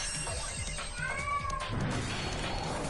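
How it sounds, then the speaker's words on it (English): An indoor cat meows, a couple of drawn-out, faint calls heard close by over a low continuous background hum. "I wonder how much of the cat's voice is picked up on the mic"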